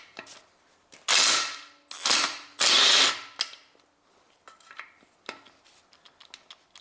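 A spanner ratchet with a long extension loosens a glued, tight oil sump bolt on a 1.8-litre Honda Civic engine, giving three loud bursts of rapid clicking, then quieter scattered metallic ticks and taps.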